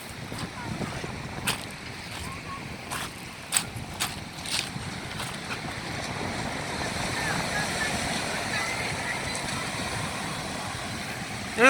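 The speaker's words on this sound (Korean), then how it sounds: "지금 이게 파도가 거세서 제가 이게 지금 여기까지 물이 튀기는데" Rough ocean waves splash against the rocky shore near Daewangam in Ulsan, a steady wash of surf mixed with wind noise on the microphone, with a few sharper splashes early on and someone talking over it.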